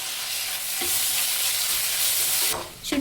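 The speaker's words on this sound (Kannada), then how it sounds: "ಶುಂಠಿ ಬೆಳ್ಳುಳ್ಳಿ ಪೇಸ್ಟು ಸ್ಮೆಲ್ ಹೋಗಬೇಕು, ಅಲ್ಲಿವರೆಗೂ ಕೂಡ ಫ್ರೈ ಮಾಡ್ಕೋಬೇಕು" Ginger garlic paste frying with onions in a pan for ghee rice, a steady close sizzle with light stirring scrapes and a couple of louder clinks near the end.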